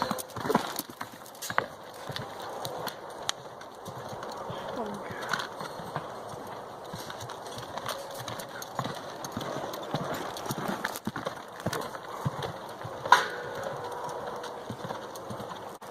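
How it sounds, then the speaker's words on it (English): A 14-year-old gelding horse walks on a family farm, its hooves clip-clopping in a steady, uneven rhythm throughout, with occasional louder knocks and quiet background noise. "This is my 14-year-old horse named Ebb, and he's a gelding."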